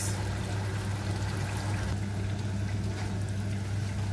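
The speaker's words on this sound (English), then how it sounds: "My meat is cooked, and I need to pour it gradually." Cooked meat pours gradually into a pot in a Nigerian kitchen, a continuous close wet splashing and trickling over a steady low hum, with no talking.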